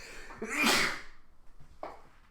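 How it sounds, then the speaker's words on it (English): A single loud, close sneeze with a sharp breathy burst, followed by a quieter sniff or exhale. "Excuse me, I had to sneeze."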